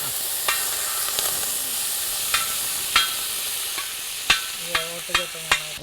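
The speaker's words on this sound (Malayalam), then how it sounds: "വെണ്ണ ഉരുക്കി ഇപ്പോൾ നറുനയ്യായി മാറിയിരിക്കുകയാണ്" Butter melting into ghee in a pan for a Kerala dish, with a continuous soft sizzle broken by several light scraping strokes of stirring.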